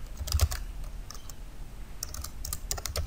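Code being typed on a computer keyboard, with short bursts of quick key clicks broken by pauses, soft and close by, with no speech.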